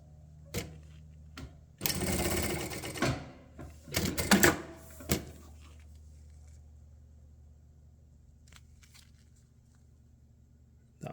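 A Jack A5E-A needle feed sewing machine stitches through vinyl in short bursts: a rapid mechanical whirring run of about a second, several brief stitching spurts, then quiet hum between them.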